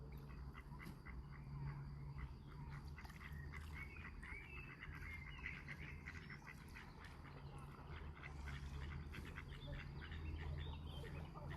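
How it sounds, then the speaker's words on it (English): Ducks quacking outdoors in Austria as a flock approaches, faint and distant over a steady rumble of background noise. "Now all the ducks are coming, dude."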